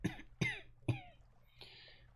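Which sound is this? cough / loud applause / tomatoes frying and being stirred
cough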